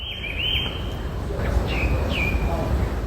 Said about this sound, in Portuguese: o sabiá-laranjeira.